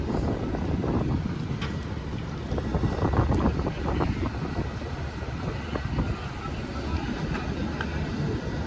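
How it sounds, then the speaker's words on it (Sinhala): A ship manoeuvring and turning in the port of Naples, Italy, without tugboats, heard as a steady rumbling engine and water wash mixed with strong wind buffeting the microphone, continuous throughout. "කිසිම ටග් එකක් කිසිම මේ එකක් නැතුව හරවන විදිය බලන්න."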